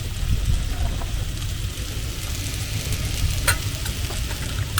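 Potatoes for aloo dum simmering and sizzling in a pan with added water, a steady, close bubbling hiss with faint stirring clicks throughout.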